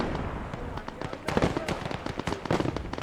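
In Gates of Hell: Ostfront, grenades and battle explosions go off as rapid, scattered pops and bursts at middle distance, with someone talking over the combat.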